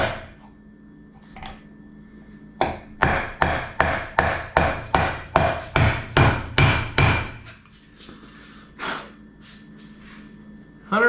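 Roughly a dozen sharp, evenly spaced hammer blows drive a seal into the back of a part during a dirt track race car build, loud and close, with a few softer knocks and light breathing around them.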